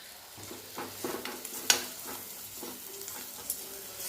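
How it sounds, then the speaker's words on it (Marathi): Coarsely ground ginger garlic paste sizzles and fries in a pan for methi matar malai, a steady close hiss with spoon scrapes and a few sharp metallic taps. "अद्रक लसण पेस्ट टाकल्यानंतर थोडंसं भाजून घ्यायची"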